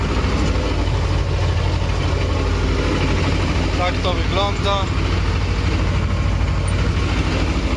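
Farm tractor engine running steadily from inside the cab while spraying a field, a loud continuous low drone throughout, with brief speech heard over it.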